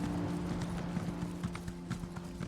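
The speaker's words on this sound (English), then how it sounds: "Let's get on the horse." Horse hooves clip-clop steadily in a video game as a rider sets off, a quick even trot of close hoofbeats over a constant background hum and ambient bed, with no talking.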